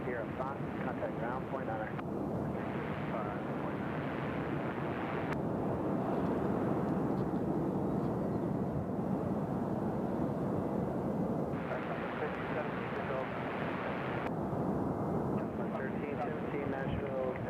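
Delta airliner arriving from Atlanta and landing on runway 2 right at Nashville International Airport, a steady loud roar with wind buffeting throughout, voices talking faintly over it.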